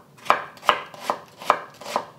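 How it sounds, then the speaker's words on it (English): A knife slices half an onion from top to bottom on a cutting board, five crisp evenly spaced chops close up with no voices. "I'm using half an onion that I'm gonna slice up"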